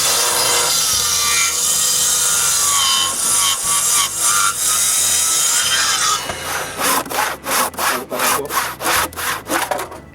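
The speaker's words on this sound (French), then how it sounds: "c'est le temps de couper les poteaux verticaux à bonne longueur" A handsaw cuts through a wooden vertical post being trimmed to length in a new workshop build, first a steady rasping stroke, then clear rhythmic back-and-forth strokes close by, with no one speaking.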